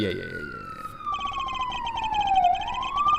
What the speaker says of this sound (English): Sirens are on my end, sorry.